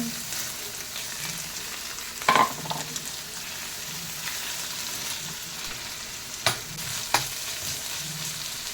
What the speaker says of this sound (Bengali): আবার নাড়াচাড়া।